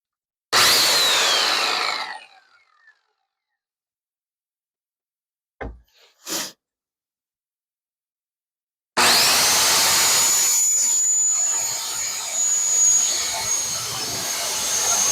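A table saw trimming edges with a crosscut sled: a loud close cut that winds down, a few brief clunks during a quiet gap, then the saw spinning up again and running steadily.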